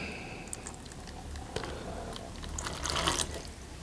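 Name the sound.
water poured into a container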